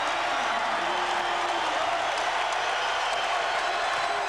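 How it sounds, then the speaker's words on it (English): A basketball arena crowd from a 1992 UCLA at USC college game roars and applauds steadily after a three-pointer, a dense, continuous wash of cheering with no pauses. "that brings the crowd back into it."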